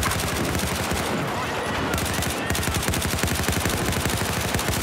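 Continuous loud automatic gunfire from a first-person shooter video game, sustained rapid rounds with only brief pauses, several weapons firing at once.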